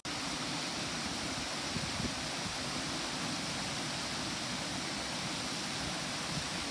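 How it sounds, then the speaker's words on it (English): Waterfall at Nerstrand Big Woods State Park in Minnesota, a steady broadband rush of falling water, close and continuous with no pauses or voices. "I made it to the waterfall!"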